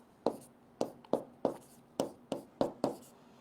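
Pen strokes scratch on paper as chemistry equations are written, a series of about eight short, crisp, close scratches at an uneven, quick rhythm, with no talk.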